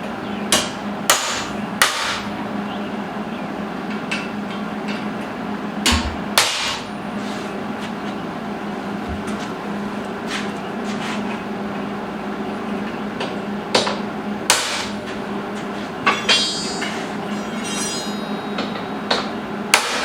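A hammer strikes a transfer punch against quarter-inch steel plate on a blacksmith shop workbench, sharp metallic clanks landing singly and in quick pairs over a steady background hum.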